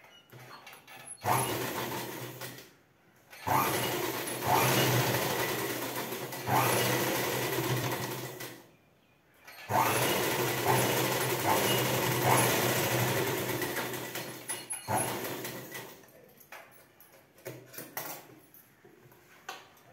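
A sewing machine runs in two long bursts while stitching a lining piece onto a blouse, close and fairly loud with a steady whirring drone, separated by brief pauses and a softer tail of handling noise.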